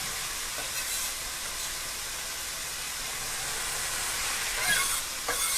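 Onion for beef breakfast burritos sizzles in a pan, a soft steady hiss with a couple of faint knocks toward the end and no talk.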